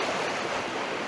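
Rushing water of a stream surging through a gorge among waterfalls and pools, a dense, loud, continuous roar with no voices.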